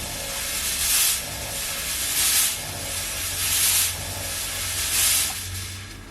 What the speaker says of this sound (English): So if we pump some smoke in